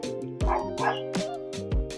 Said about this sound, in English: So you can hear the dog still barking.